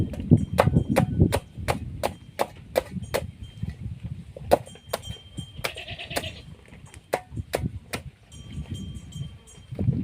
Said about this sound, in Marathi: या प्रकारे मित्रांनो कापून घ्यायचं